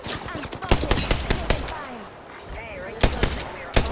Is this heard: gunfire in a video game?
yes